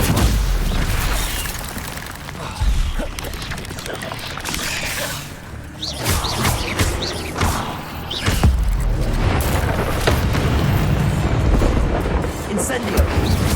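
Incendio fire spells cast again and again in Hogwarts Legacy, loud whooshing bursts and booming impacts layered over game combat noise and music, with a voice calling out spell names throughout.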